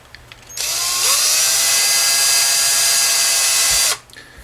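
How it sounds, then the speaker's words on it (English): An electric power drill with a 5/64 bit bores into the hardwood headstock of an Ibanez RG1570 guitar for tuner screws, a steady close high-pitched whir lasting about three seconds that starts and stops abruptly. "so I stepped up the drill bit to a"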